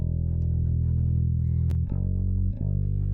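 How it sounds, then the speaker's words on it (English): A bass guitar plays through the Waves Curves AQ equalizer plugin, a sustained low, heavily processed tone with steady level and brief dips where the sound pumps between notes. "I am hearing some like pumping."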